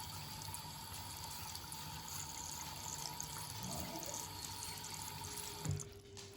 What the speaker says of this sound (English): now we're going to throw some water in